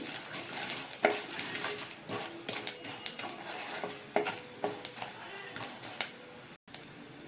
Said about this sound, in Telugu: తర్వాత ఎండుమిర్చి, మినపప్పు, శనగపప్పు, పల్లీలు వేసుకొని కలుపుకోవాలి.